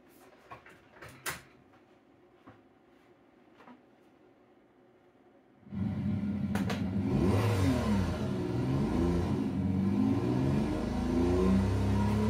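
A car engine in a sim racing video game revs hard and steadily for the last half, after a quieter stretch of faint clicks and knocks, loud and close with rising and falling pitch.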